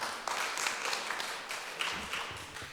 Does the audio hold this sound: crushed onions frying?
no